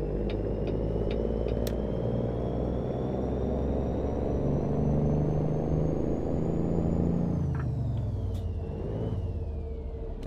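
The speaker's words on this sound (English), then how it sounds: "You can start to hear the tire sounds that Creech did" Steady low rumble of truck tires rolling on the road in American Truck Simulator, continuous and fairly loud throughout, with a faint tonal whine above and a few brief clicks, no voices.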